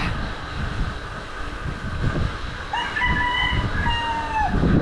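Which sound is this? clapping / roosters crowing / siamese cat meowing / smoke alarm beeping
roosters crowing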